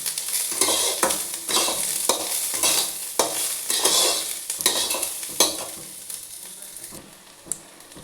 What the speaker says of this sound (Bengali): পেঁয়াজটা এবারে বেশ লালচে করে ভাজবো